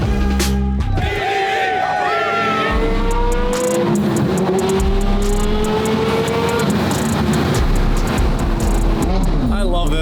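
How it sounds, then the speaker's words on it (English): A Lamborghini Murcielago engine revs hard alongside a second supercar in a rev-off, loud rising and falling revs close by with a brief cut at the start, while people talk over it. "We having a rev off? These two cars together."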